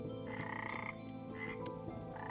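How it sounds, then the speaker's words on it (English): Frogs croak in a repeating run of ribbit calls inside the survival game Vintage Story, layered over a steady wetland ambience, with no one talking. "Listen, frogs, ribbit."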